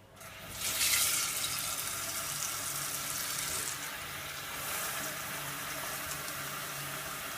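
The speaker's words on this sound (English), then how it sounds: "First, we are going to add water." Water pours steadily into a cooking pot for boiling, a continuous close splashing rush that begins abruptly and runs throughout, with no talk over it.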